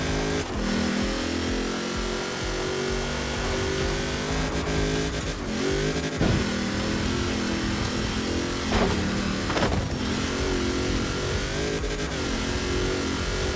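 The Quartz Regalia D-Type race car in Forza Horizon 4 revs hard with a continuous loud engine roar, punctuated by quick throttle blips and gear changes.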